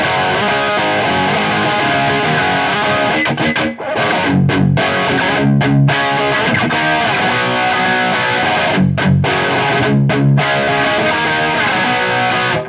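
A heavily distorted electric guitar plays through a modded Victory Super Sheriff VS100 tube amp on its hot-rodded low-gain channel 2, producing loud, sustained chords that pause for a few brief choppy rests.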